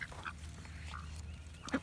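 A duck quacks a few times in short, nasal bursts, quiet and somewhat distant over a low background hum.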